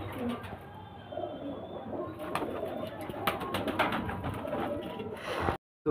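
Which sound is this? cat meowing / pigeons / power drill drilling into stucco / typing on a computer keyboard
pigeons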